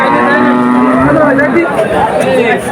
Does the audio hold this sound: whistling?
no